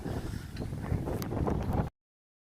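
Wind gusting on a hiking trail in Joshua Tree National Park, a rough, buffeting rumble striking the microphone with fluttering bursts for about two seconds before cutting out.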